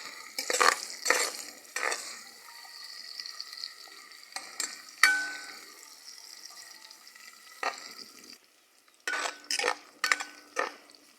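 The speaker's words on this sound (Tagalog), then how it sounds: "Pabuto na to nga ang bombay ug ang ahos mo gawas ang iyang kahumot." Onion and garlic sautéing in a pan, with bursts of stirring and utensil scrapes over a soft, steady sizzle, pausing briefly before several more quick stirring strokes near the end.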